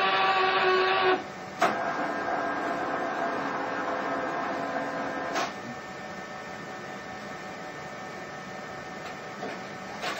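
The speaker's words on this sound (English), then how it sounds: "The printer will feed it into itself and scrub." A Zebra ZXP Series 8 retransfer card printer draws in a moistened cleaning card and scrubs, a steady mechanical whir and hum with a few clicks and a shift in pitch partway through.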